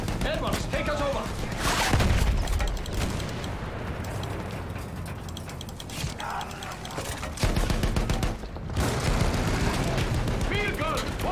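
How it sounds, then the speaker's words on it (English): Battlefield 1 combat with a field gun and rapid rifle and machine-gun fire, loud overlapping bursts and booms crackling continuously, with shouted voices in the mix. "Field gun, watch out!"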